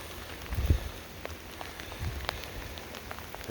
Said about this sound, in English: which is what I consider like a medium rain.